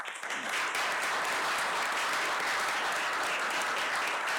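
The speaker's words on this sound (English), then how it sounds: "Please give them a round of applause." A crowd claps loudly and steadily at a board of commissioners meeting, dense sustained applause filling the room without pause.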